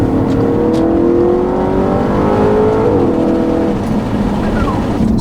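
A 2013 Audi RS5 engine revs hard toward 6,500 RPM, its loud, steady drone climbing in pitch, then dropping back as the revs fall near the end.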